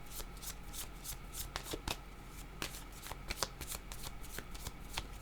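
Tarot cards are shuffled by hand for a reading, giving a run of quiet, close riffles and soft flicking taps that repeat irregularly throughout.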